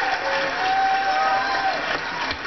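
Studio audience applauding and cheering on a talk show, a steady, busy crowd of clapping with some vocal cheers mixed in throughout.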